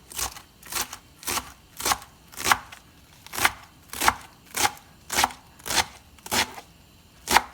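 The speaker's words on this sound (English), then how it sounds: "I like to cut my greens up just like this." A knife chops rolled collard green leaves finely on a cutting board, a steady run of about a dozen crisp, evenly spaced cuts, close and fairly quiet.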